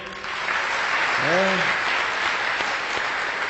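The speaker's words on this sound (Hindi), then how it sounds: "जोरदार ताली बजाएं।" Steady crowd applause fills the whole stretch, with a brief rising vocal cry lifting above the clapping about halfway through.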